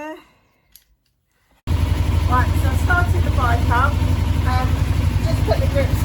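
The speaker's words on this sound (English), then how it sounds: "Right, so I started the bike up" A 2000 Kawasaki ER-5 motorcycle starts after a short quiet pause and settles into a steady, loud idle. The low engine throb runs close and continuous, with a voice speaking over it.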